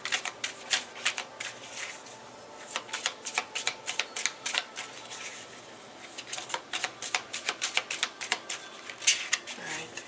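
Tarot cards shuffled by hand during a reading, a run of quick crisp riffling bursts with short pauses between them, fairly close and moderately loud.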